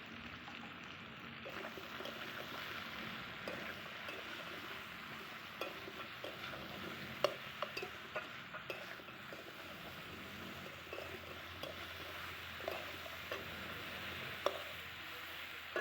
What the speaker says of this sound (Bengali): বেশ ভালো করে নেড়ে নিয়েছি